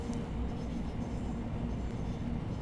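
A Thameslink Class 700 electric train rumbles steadily as it slows into Gillingham station in the Train Sim World game, a continuous low, loud rolling drone with no voices.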